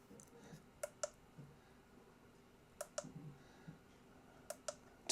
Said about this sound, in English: So it's just a simple little click button